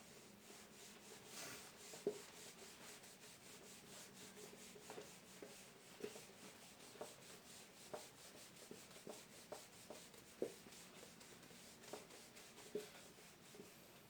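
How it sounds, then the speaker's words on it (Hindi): Writing being rubbed off a board during a Sanskrit grammar lesson, heard as soft repeated scrubbing strokes in an uneven rhythm, faint and close, with no talking. "अब मैं इसको रब कर रहा हूं।"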